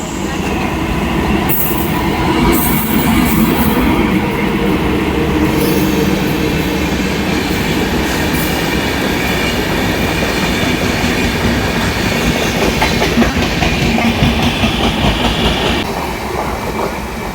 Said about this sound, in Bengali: কোন ট্রেন গেল বলতো একটু? নিউ আলিপুরদুয়ার থেকে শিয়ালদা পদাতিক এক্সপ্রেস।